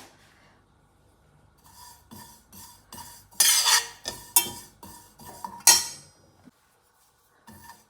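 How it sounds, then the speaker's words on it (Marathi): Cumin and carom seeds are dry-roasted in a kadai, with a spoon scraping and rattling against the metal in short bursts. A few louder rasping strokes stand out, and quiet pauses separate them. "1 चमचा जिरे, अर्धा चमचा ओवा साधारण मिनिटभर परतून घ्यायचा आहे."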